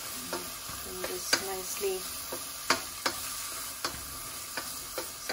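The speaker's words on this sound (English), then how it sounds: "saute this till they become a little translucent in color" Onion and green peppers sautéing in a pan, a steady soft sizzle broken by repeated sharp clicks and scrapes of a utensil stirring, close up, with a brief spoken remark.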